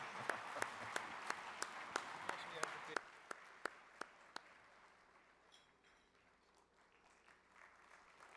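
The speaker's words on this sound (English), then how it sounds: "We'll give him another round of applause." A conference audience applauds a speaker in a hall. Dense clapping fills the first few seconds while separate sharp knocks repeat at a steady pace, then the clapping fades to a quieter room.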